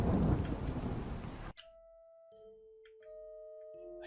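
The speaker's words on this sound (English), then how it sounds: "Oh, it's getting really stormy." Rain pours heavily during a thunderstorm in the horror video game Siryou no Yashiki, The Cursed House. A loud, dense roar fills the first moment, then cuts off abruptly and leaves quiet, thin electronic tones.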